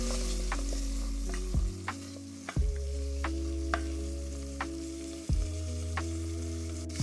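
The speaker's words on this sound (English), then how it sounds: "Now we're going to saute this for 5 to 6 minutes." Chopped onion and green bell pepper sauté in olive oil with a soft, even sizzle, broken by a few stirring scrapes and clicks of a utensil in the pan.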